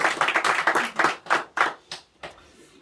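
A church congregation at a Sunday morning service claps for a member, a short burst of distinct hand claps that starts lively, then thins into a few scattered, slower claps before fading out.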